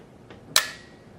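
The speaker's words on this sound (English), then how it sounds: "The bolt moves forward, you can hear it click, but it just doesn't fire." A Tippmann 98 Custom Platinum paintball marker gives a single sharp, close metallic click as its bolt moves forward without firing, with a faint tick just before it and quiet background otherwise.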